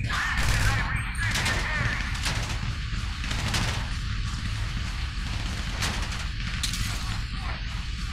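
Rapid gunfire while shooting enemies in GTA V, loud bursts of automatic shots cracking repeatedly over a constant roar of vehicle and action noise, close and sustained throughout.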